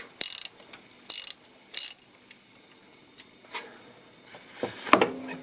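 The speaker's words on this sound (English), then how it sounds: "undo that bolt in there. Let me undo it." A ratchet undoing a bolt on an AL4 automatic gearbox, heard as three short bursts of rapid clicking near the start, followed by quieter clicks and shuffling, then a final burst of ratcheting near the end.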